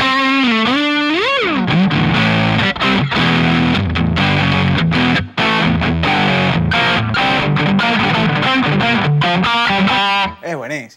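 Electric guitar running through a Zoom G1X Four multi-effects pedal with its SM57 microphone simulation, playing a continuous distorted, effect-laden riff with bends and sustained notes, loud and close, with no talking.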